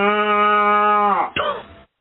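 A woman imitates a cow with a long, steady, voiced moo that holds level, then bends downward and breaks into a short rough tail before ending.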